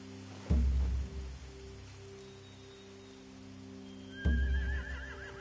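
Two horse whinnies in The Walking Dead: The Final Season video game ring out a few seconds apart over a quiet, steady background hum.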